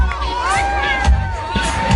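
A concert crowd of fans sings along loudly, a dense wash of voices and cheering close up, with a lead singer who is not singing.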